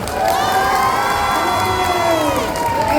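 At a cosplay contest, a large audience cheers and shouts loudly, with whoops and high voices blending into a dense sustained roar for about three seconds.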